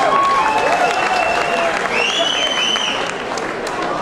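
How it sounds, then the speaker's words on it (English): Audience applause for a band after their set, dense clapping and crowd noise under sustained tonal sounds and chatter, steady and fairly loud throughout. "Could we have another round of applause for them?"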